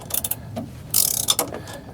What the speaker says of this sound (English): Good thing we got speed wrenches.